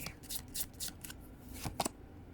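Tarot cards are shuffled up close and quietly, giving a series of soft riffling and flicking bursts with brief pauses between them.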